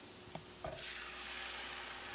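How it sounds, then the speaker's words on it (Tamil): Ground tomato paste pours into a hot pan with turmeric, two quick splashes followed by a steady rising sizzle, close and soft, with no talking. "இப்போ நம்ம தக்காளியை அரைச்சி வச்சுருந்தோம், அதை ஊற்றிடலாம்"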